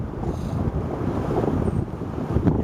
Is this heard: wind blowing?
yes